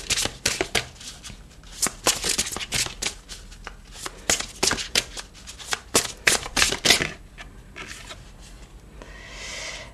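Oracle cards shuffled by hand in quick, repeated riffles and slaps, close and crisp, continuing for several seconds before a softer rustle at the end.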